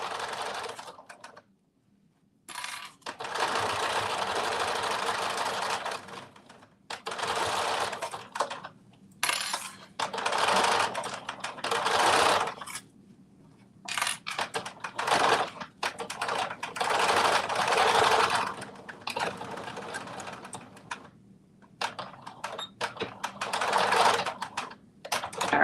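A sewing machine stitches down fabric while making a Simplicity 2450 garment, running in several bursts of steady whirring separated by short pauses, close and fairly loud with no talk.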